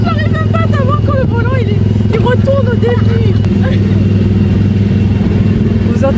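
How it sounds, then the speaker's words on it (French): A steady engine drone runs throughout with a rising, revving tone, while voices talk over it from inside the vehicle. "Regardez ce bruit de moteur."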